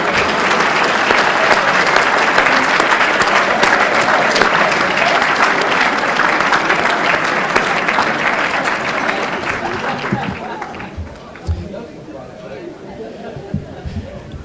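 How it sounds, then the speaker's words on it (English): A large indoor audience at a high school athletic Hall of Fame induction ceremony applauds loudly and steadily for about ten seconds, then the clapping thins out and fades into scattered claps and low murmuring. "Please rise, be recognized, and receive a well-deserved round of applause."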